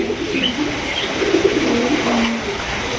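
Pigeons coo in low, soft rolling calls at a pigeon farm, several birds overlapping close by over a constant background hum with faint traffic-like noise.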